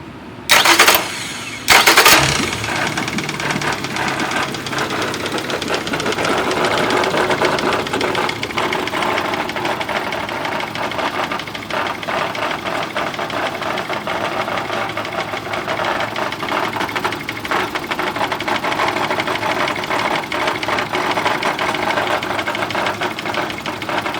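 A nearly new Yamaha F70A outboard motor runs steadily with a persistent mechanical knocking clatter after reverse was engaged at full speed, preceded by a couple of sharp bursts at the start, close and continuous.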